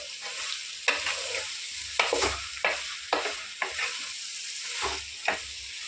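Soaked meal maker chunks stirred into a tomato mixture in a pan for pulao: a spoon scrapes and knocks against the pan in repeated, irregular strokes over a soft background sizzle, close up with no talking.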